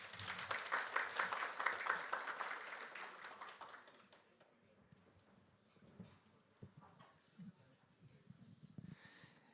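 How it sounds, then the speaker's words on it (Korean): Audience applause welcoming a panel moderator at a medical device R&D results meeting, moderately loud for about four seconds before thinning out to a few scattered claps and light taps. "여러분 좌장님 큰 박수로 환영해 주십시오"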